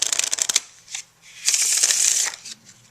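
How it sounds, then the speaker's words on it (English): Playing cards are riffle shuffled up close: a quick fluttering burst of cards, a brief pause, then a longer, smoother riffle as they interleave. "just give it another fair riffle shuffle"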